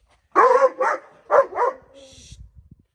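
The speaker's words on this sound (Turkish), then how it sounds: "Çok güzel bir köpek." A Kangal dog gives several loud, close barks in two quick pairs, followed by a softer whine and faint rustling.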